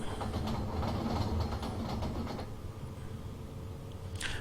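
An ICE 2 high-speed train running at about 160 km/h in the Train Simulator 2016 video game, with a steady rolling rumble and rhythmic clatter that thins out midway, plus a brief high hiss near the end.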